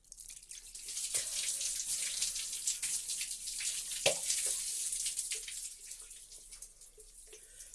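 Cold water is poured over the head while bathing, a soft continuous splashing and trickling stream with scattered drips, fairly quiet and close.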